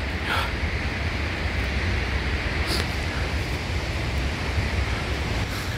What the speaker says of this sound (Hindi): ये झरने की आवाज़ है